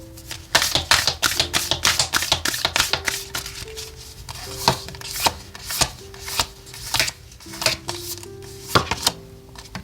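Oracle cards shuffled by hand for a tarot reading, a brisk series of crisp taps and slaps in rapid clusters, close and fairly loud, with no talk.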